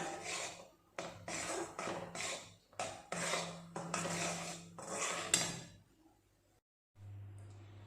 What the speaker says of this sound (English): The jaggery is melted now and stir continuously to avoid getting stuck to the karai.